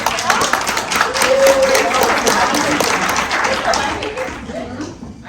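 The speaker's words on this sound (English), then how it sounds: "I want to give a hand of applause to our treasurer" A luncheon crowd at a LULAC awards event applauds the treasurer, dense sustained clapping at full strength that thins out near the close.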